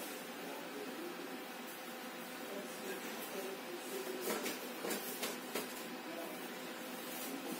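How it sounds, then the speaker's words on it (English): Three 92mm fans on a Raijintek Delos tower cooler spinning at up to 2000 RPM, a steady hissing whoosh of rushing air, loud and constant at close range with a few faint clicks. "this is like 92mm fans with a max speed 2000 RPM"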